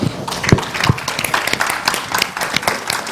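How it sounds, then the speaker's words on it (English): A live audience at an outdoor performance in Bryant Park claps in a steady, dense wash of applause, with sharper individual claps standing out near the front. "give everybody a round of applause"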